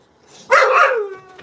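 A single loud, drawn-out bark from one of several caged dogs, close by, with a brief falling whine at the end and no talk over it.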